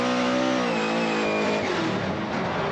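A drift car at a Formula Drift event in Seattle screams loudly close by on track, its engine note climbing and then staying high, with a rough, gritty edge and no talking.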